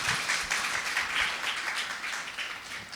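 A church congregation at a Sunday service claps steadily to welcome a visiting Korean team, a continuous, moderately loud wash of applause with no pauses.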